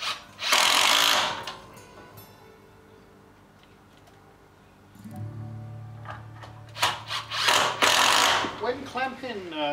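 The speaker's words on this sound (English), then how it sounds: "I'm simply going to get these other smaller blocks and screw them to my end block" Small wooden blocks being screwed onto an end block with a power driver for clamping to a CNC router bed: two loud whirring drive bursts at start and end, a quieter mechanical hum between, no clear talk.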